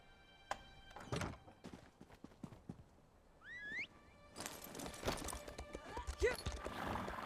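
Horse hooves thudding and a whinny in The Elder Scrolls Online, with scattered clopping impacts, a brief rising whinny midway, then busier, louder hoof and movement noise near the end.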